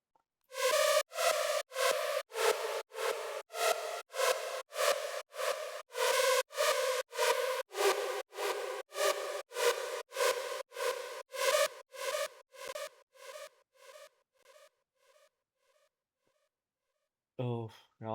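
Synth lead melody built in Serum 2 for a Holy Forever remake, a long run of bright, buzzy repeated notes in steady rhythm that gradually fade toward the end, followed by a brief burst of talking.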